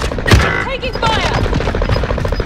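Rapid automatic gunfire from a Call of Duty Warzone zombies match, with a Galil and Tommy Gun in use, rattling loudly and continuously under game voice callouts and chaotic combat noise.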